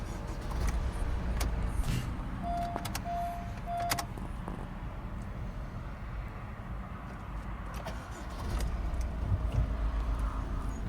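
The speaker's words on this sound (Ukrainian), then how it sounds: "Завели, друзі, автомобільчик, заводиться з півоберту." A 1.6 diesel Honda CR-V engine cranks and catches, then settles into a steady low idle, with a few brief clicks and a short chiming tone early on.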